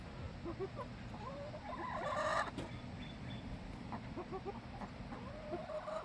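Chickens cluck and murmur softly at close range over a steady background hum, with a brief louder squawk partway through, as they wait for a tray of black soldier fly larvae to be uncovered.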